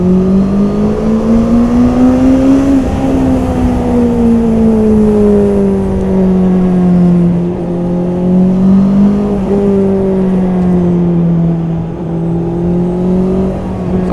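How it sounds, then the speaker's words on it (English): A 2021 Honda CB650R inline-four engine revs hard on a race track, its loud, close whine rising and falling through gear changes without a break. "So this is a racing bike"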